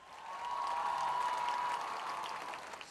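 Audience applause at a government ceremony in Punjab honouring scholarships and laptops, a soft clatter of clapping that swells and then fades, with a sustained tone from the hall sound system running through it.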